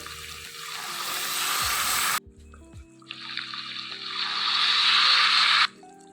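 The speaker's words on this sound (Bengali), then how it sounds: "আমি পুনরায় দ্বিতীয়বার পানি দিব।" Water is poured into a pan of tengra fish curry with new potatoes and tomatoes, producing two loud splashing, hissing pours separated by a short quieter gap with faint clinks, close by, without talk.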